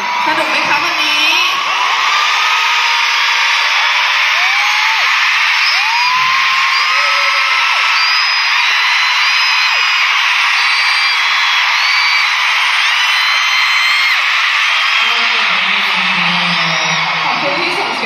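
A huge audience at a concert in Bangkok, Thailand screams and cheers, producing a loud, continuous wall of high-pitched shrieks and whoops that never lets up.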